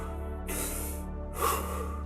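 A person takes deep, forceful breaths during a Wim Hof breathing exercise: two loud, airy inhalation rushes, close to the microphone, over a low steady hum.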